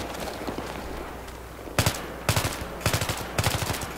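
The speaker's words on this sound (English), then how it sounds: "Oh shit, I'm getting shot at already." Gunfire in the video game Battlefield 3: loud bursts of automatic fire in four quick volleys over a low background rumble, close and punchy.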